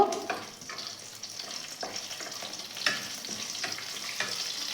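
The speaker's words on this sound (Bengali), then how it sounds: "এবারে এর ভেতরে জিরে ফোড়নটা দিলাম, তার সাথে একটা গোটা শুকনো লঙ্কাকে ফাটিয়ে দিলাম, আর গোটা গরম মশলাও ফোড়নে দিলাম" Cumin seeds, a whole dried red chilli and whole garam masala sputter in hot oil for a chana dal tempering, a close crackling sizzle with repeated stirring scrapes and a few sharper pops.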